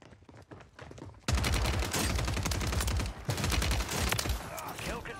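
Rapid SMG bursts from a Call of Duty-style shooter on Rebirth Island, a dense, loud run of automatic fire that erupts suddenly after a quieter opening and keeps going with brief gaps.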